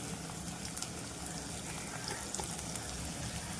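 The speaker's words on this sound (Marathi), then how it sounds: "कांदा घालूया आपण बारीक करून ठेवलेला." Finely chopped onion frying in oil makes a soft, continuous sizzle with light bubbling, fairly quiet and with no speech.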